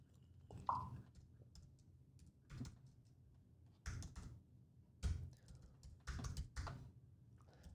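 Typing on a computer keyboard, close and fairly quiet, in uneven bursts of clicks separated by short pauses.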